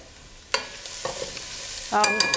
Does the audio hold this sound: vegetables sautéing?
yes